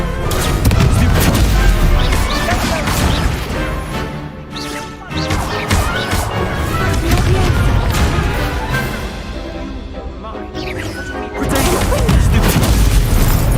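A Confringo spell goes off during a Hogwarts Legacy duel: dense, loud game audio with repeated heavy booms and crashing impacts, broken by a couple of brief lulls.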